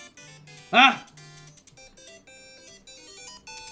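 A telephone ringtone chirps quietly during a livestream, a thin repeating electronic melody running under a short sharp exclamation from a person.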